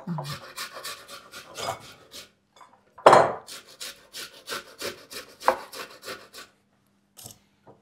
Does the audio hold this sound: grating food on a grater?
yes